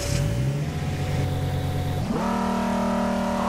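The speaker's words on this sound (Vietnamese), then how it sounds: "Tiếng máy xịn sò." Lamborghini engine in Euro Truck Simulator 2 idling low, then revving sharply upward and holding a higher, steady roar, loud and alone.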